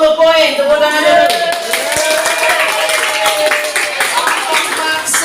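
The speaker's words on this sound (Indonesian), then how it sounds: "20 poin. Tepuk tangan dulu." A classroom of children claps for a group during a quiz, steady broadband patter filling the clip alongside a teacher's voice and children's chatter.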